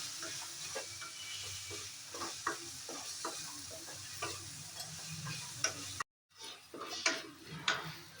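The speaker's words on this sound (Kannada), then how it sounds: "ಕಾಯಿ ತುರಿನ ಸೇರಿಸ್ಕೋಬೇಕು. ಸೇರಿಸ್ಕೊಂಡು ಅದನ್ನು ಸ್ವಲ್ಪ ಫ್ರೈ ಮಾಡ್ಕೊಳ್ಳಿ" Grated coconut fries in a pan with a steady close sizzle and hiss, broken by frequent clicking stirs of a utensil, with a brief silent gap near the end before the frying resumes.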